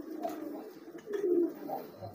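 A racing pigeon kept for loud cooing gives a run of low, throaty coos close by, several rolling calls in a row with brief pauses, alone without voices.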